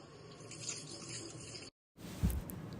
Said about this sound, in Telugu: మటన్ 2 to 3 times బాగా కడుక్కోవాలండి